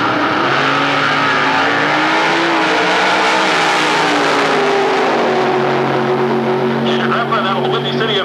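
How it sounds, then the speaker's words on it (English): A 1949 Ford drag racing car roars at a drag strip, loud sustained engine drone with shifting pitch, steady and close, filling the whole stretch. "the 1949 Ford and go drag racing with it"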